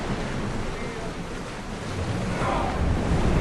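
Ocean waves and wind wash steadily around a sailing ship at sea in Assassin's Creed Odyssey, a constant broadband surge that swells slightly toward the end.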